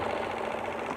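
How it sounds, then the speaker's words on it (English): A sewing machine runs steadily with a fast, even mechanical whirr and rhythmic clatter, moderately quiet and heard alone without talking. "does a sewing machine work?"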